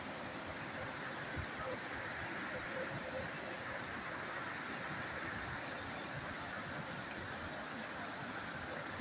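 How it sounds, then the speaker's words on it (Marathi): A flooded stream beside a house rushing past, a constant dense roar of churning water without a break, heard from a short distance. "जसं का उपाले आले पाण्याला असं असं पाणी चाललंय बघा"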